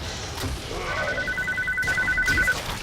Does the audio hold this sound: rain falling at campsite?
no